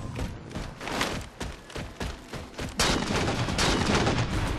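Rapid gunfire from a Halo 4 custom sharpshooter match, dense cracks and bursts of shots piling up continuously, loud and close, with a heavier barrage kicking in partway through.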